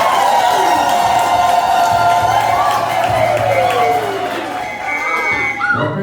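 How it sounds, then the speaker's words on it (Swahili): A church congregation at a Mass marking a sister's 25 years of religious life breaks into applause and cheering with high ululation, a loud crowd swell that fades slightly toward the end. "Naomba tumpongeze kwa makofi na vigelegele."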